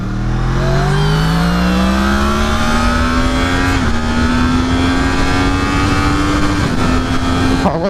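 Yamaha MT-10 2019 roadster motorcycle pulling hard under acceleration, engine pitch climbing steadily with quick, clipped upshifts from the quickshifter, loud and close with constant wind rush.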